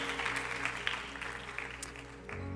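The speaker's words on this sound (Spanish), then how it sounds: "Vamos, dale fuerte un aplauso al Señor" A church youth service audience applauds in a steady, fairly soft wash of clapping that carries on to the end, with a low hum underneath.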